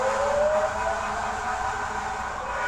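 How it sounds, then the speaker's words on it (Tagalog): A fire truck siren wails steadily as the truck passes by outdoors, a continuous rising and falling tone that stays fairly loud throughout with light background noise. "may dumadaan na"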